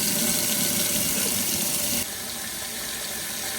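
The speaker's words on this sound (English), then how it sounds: "So now I'm gonna turn my water on here." Water runs from a tap into a livestock trough fitted with a float valve, a steady loud rushing gush that drops to a softer, lower flow partway through, with no talking.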